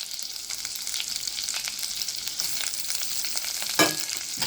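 Crushed garlic, onion and cumin frying in oil, making a continuous bright crackling sizzle, close and fairly loud, with one sharper sputter near the end and no voices.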